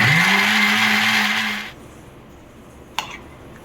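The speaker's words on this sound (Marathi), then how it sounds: "आता आपण हे सगळं मिक्सरमध्ये वाटून घेऊ." A kitchen mixer grinder whirs at high speed while grinding raw mango chutney, a loud rising motor whine that cuts off abruptly, leaving quiet room tone and a faint clink.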